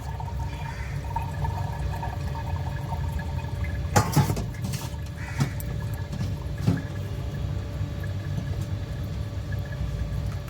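Tap water running steadily while fish is washed at home, with a continuous splashing flow and a few sharper clatters and splashes partway through.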